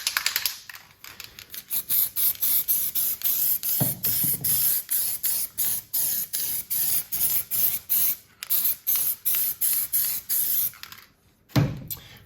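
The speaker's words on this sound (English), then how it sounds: "So we start with a bit of spray glue" Repeated short bursts of spray glue hissing from an aerosol can onto model railway scenery, rapid and close, with brief gaps between puffs and a couple of longer pauses.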